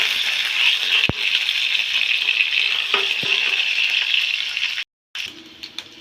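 Chopped green chillies and a dried red chilli fry in a pan for a Kannada dill and fenugreek greens bassaru, a steady close sizzle that runs on with a few sharp clicks and stirring knocks and then a brief cut near the end.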